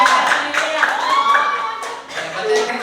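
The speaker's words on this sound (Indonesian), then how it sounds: "Tepuk tangan dulu buat kencang" Students in a classroom religious-history lesson clap their hands together in a short, steady burst, with voices chattering and calling out over the clapping.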